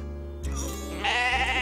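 A stranded sheep stuck in mud bleats several times in close succession, loud and near, with a brief low animal cry partway through and no talk.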